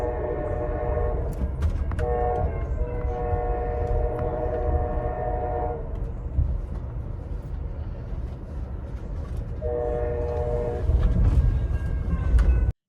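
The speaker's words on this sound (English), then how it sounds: "The train horn is blowing constantly, quite a lot of the time, as you go over crossings and roads" An Amtrak long-distance train rumbles along continuously while its horn blows in two long, loud blasts, one early and one near the end, over steady rail noise.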